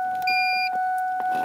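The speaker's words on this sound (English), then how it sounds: "we had that single beep there once we plugged that into the port" A short electronic beep comes from a programmer plugged into the OBD2 port of a 1994–2004 Ford Mustang, a clear tone standing over steady background hum.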